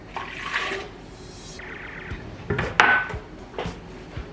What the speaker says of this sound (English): Now I am going to put some chicken broth into my blender,